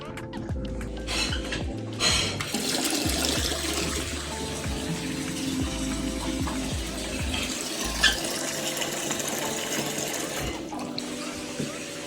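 Water runs steadily into a plumbing fixture during a plumber's repair job, a continuous close splashing flow with a few clunks and knocks, and a sharper thump near the middle.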